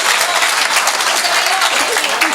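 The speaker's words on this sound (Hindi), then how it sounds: "ताली बजाओ मैडम जी के लिए।" A lively audience breaks into loud, close, continuous applause for a woman at a comic poetry performance. The clapping is thick and unbroken for the whole short stretch.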